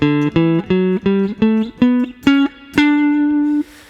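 Eight plucked guitar notes climb step by step in a major scale, evenly spaced and close, the last note ringing out longer before stopping.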